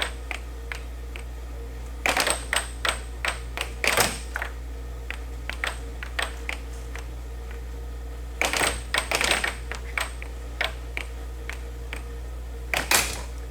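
Sharp plastic clacks of an air hockey puck struck by mallets and rebounding off the table rails during a pro match, coming in quick rapid bursts separated by pauses, close and crisp over a steady hum.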